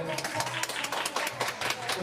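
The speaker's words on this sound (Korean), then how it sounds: "박수 한번 주세요" Dense audience clapping at a Korean awards ceremony as the K-pop group Brave Girls gathers for a group photo, a steady patter running under a host's voice throughout.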